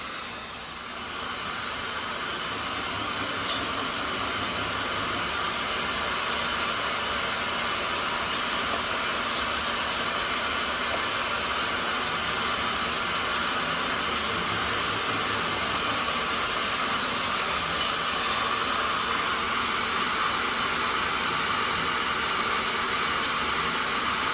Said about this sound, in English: I have the vacuum puller set up there. That's what the noise is.